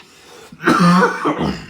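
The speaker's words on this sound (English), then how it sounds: "I'm battling a rough cough the last few days" A single rough, harsh cough from a lingering days-long cough bursts out close by, followed by a shorter second hack, with no talking.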